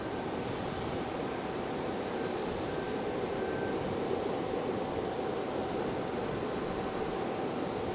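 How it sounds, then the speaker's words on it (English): An executive jet departs, a steady, distant broadband roar with a faint high whine, constant in loudness throughout and with no voices. "Got an exec jet on the move."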